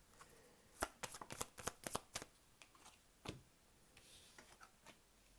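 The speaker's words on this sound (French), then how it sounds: "j'essaie de pas trop parler quand je suis en train de distribuer les cartes" Playing cards being shuffled and dealt, a quick run of crisp riffling flicks followed by slower, scattered soft snaps and slides, close and quiet with no talking.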